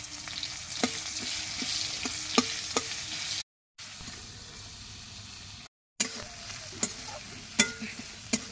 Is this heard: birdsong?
no